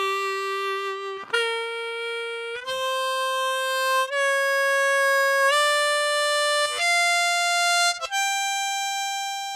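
Harmonica climbs a blues scale in even half notes, each sustained tone stepping higher with short breaths between, clear and close with no talking.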